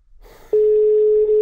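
Telephone tone heard while calling during a TV game show: after a brief quiet lead-in, a loud, steady, unbroken tone begins and holds unchanged to the end, with no talk over it.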